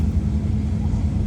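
A black classic Ford Mustang pulls away at a car show with a deep, loud low-frequency engine rumble that pulses briefly and steadily for about a second.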